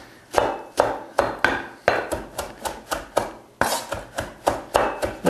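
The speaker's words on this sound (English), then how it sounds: "Just chop them up coarsely, not too much." Knife chopping coriander coarsely on a board: a steady run of about fourteen sharp, close chops with a brief pause partway through, with no voice over them.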